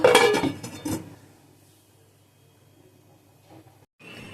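A metal lid clanks onto a pot of egg curry at the start, with a brief clatter and ring, followed by a faint hiss from the simmering pot.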